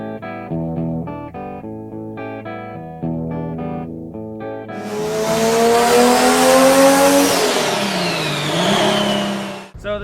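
Plymouth Barracuda with a swapped-in big-block 383 V8, run in cold weather: tonal music plays first, then the engine roars in loud and close for the second half, revving up and falling back in long sweeps before cutting off abruptly.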